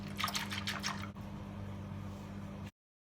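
Buttermilk with curry leaves and coriander is mixed slowly, giving soft liquid swishing and squishy sloshing close by, then stopping abruptly.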